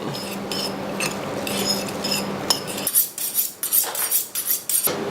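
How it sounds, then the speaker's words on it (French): A burger seasoning of pepper, piment d'Espelette and sesame oil is mixed in a bowl, first as steady muffled stirring, then as a run of close, sharp clinks of utensil against the dish. "Bien mélanger le tout."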